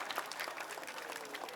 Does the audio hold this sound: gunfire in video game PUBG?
no